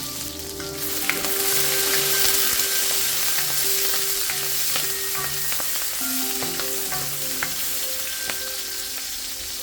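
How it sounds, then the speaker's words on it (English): Dry chilies, Sichuan peppercorns, red pepper slices and scallion whites frying in hot oil in a wok, a steady close sizzle throughout with no talking. "add a few dry chilies, 1 teaspoon sichuan peppercorn, few slices of red pepper, and a few white parts of scallions in the wok"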